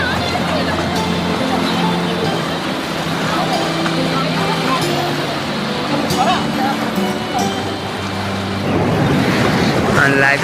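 Sea waves break along the beach at Digha in a continuous loud surf roar, with a crowd chattering nearby throughout.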